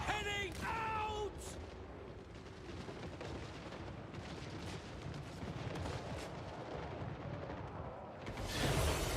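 Mortar artillery fire in a video game battle, with dull booming blasts and rumbling impacts amid a dense, noisy combat din that stays loud throughout, a voice briefly shouting near the start.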